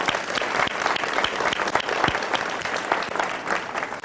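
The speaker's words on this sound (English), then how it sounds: "round of applause" Audience applause at a hospice anniversary event fills the room, a dense, continuous wash of clapping from many people that stays fairly loud and steady for a few seconds.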